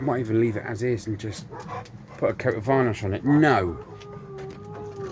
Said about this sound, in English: That's a dog across the road howling.